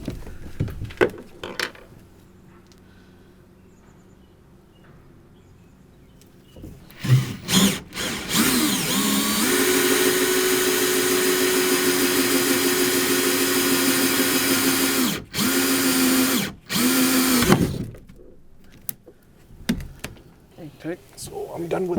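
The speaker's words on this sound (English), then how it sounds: "Okay, so I'm done with the drill." Power drill boring a center hole through a boat hull for a through-hull fish finder transducer, a sustained loud whine running about ten seconds with brief stops, quiet surroundings before and after, with someone speaking briefly.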